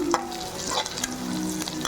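A bunch of curry leaves crackling in hot oil in a pan for kola fish curry, a close busy sizzle with light stirring scrapes throughout.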